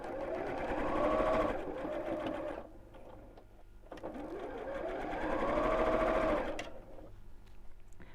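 A sewing machine stitches cuddle fleece for a festive penguin, running in two whirring bursts of a few seconds each with a short quiet gap between them.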